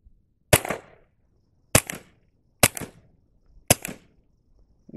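Four suppressed shots from a Ruger SR22 .22 pistol fitted with a Coastal Gun Ultima suppressor, each a sharp, short pop with a quick tail, evenly spaced about a second apart on an outdoor range.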